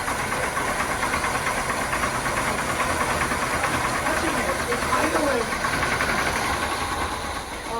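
A 1977 Chevrolet Caprice with a 350 engine, starting for the first time in 23 years, idles with a steady rough rumble and faint knocking, loud and continuous throughout.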